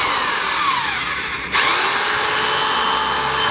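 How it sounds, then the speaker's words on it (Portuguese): A rotary hammer drill runs steadily at high speed with a bright whining motor tone, briefly dropping in pitch before a sudden shift at about a second and a half as it bites in and continues drilling loudly. "Vamos furar."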